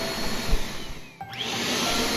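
A Bissell PowerForce Compact vacuum cleaner runs close by with a steady broadband roar, a brief dip in its motor note near the middle, then a return to a full, even whine.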